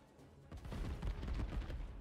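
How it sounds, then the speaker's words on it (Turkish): An explosion goes off in the fantasy role-playing game Divinity: Original Sin 2, a loud, rumbling low burst that swells at about half a second and keeps booming and crackling to the end, with no speech over it. "Uy, patlama oldu."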